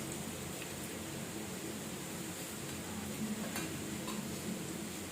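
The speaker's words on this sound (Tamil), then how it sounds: "எண்ணெய் விட்டுட்டு தேவையான அளவு வெந்தயம் போடுவோம்" Fenugreek seeds sizzle in hot oil in a pan while a Kerala-style sardine curry is started, a steady, close crackling hiss with faint ticks throughout and no talk.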